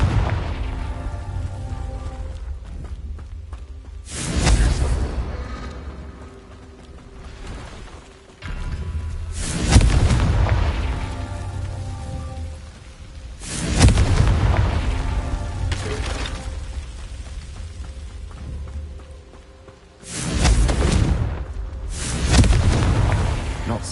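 Repeated spell explosions in the video game Hogwarts Legacy: four loud, broadband booming blasts about every five seconds, each decaying over a rumbling game soundtrack and effects, with brief spoken incantations in between.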